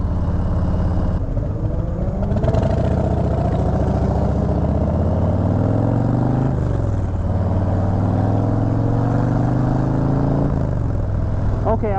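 A 2020 Harley-Davidson Low Rider S motorcycle engine accelerates loudly and close, its rumbling tone climbing in pitch, dropping between gear changes and climbing again, with wind noise throughout.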